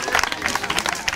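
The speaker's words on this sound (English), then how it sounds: "You, please appreciate them, clap for them, clap for them, clap for them." Children in a classroom clap and applaud together, a quick, uneven patter of close, fairly loud hand claps with a little voice mixed in.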